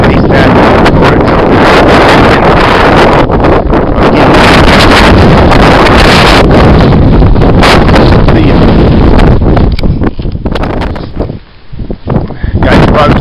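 Loud, blustery wind on a mountain ridge in the Pemigewasset Wilderness buffets the microphone in continuous roaring gusts, briefly easing near the end before surging again.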